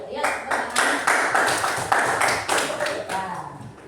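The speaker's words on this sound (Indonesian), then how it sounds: "Ayo tepuk tangan." Students in a classroom clap their hands together in a run of loud, roughly rhythmic claps close by, with some voices mixed in among the clapping.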